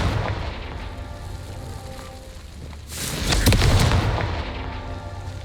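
A fiery explosion from the Confringo spell in Hogwarts Legacy: after a low rumbling bed, a sudden crackling blast erupts near the middle, swells, then trails off into a dull roar.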